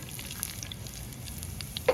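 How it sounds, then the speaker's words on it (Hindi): Cumin seeds and red chilies tempering in hot oil for a tadka, outdoors while cooking saag; a faint, soft crackling sizzle with scattered small pops, quiet and close, with no talk over it. "ये तड़का हमारा तैयार है।"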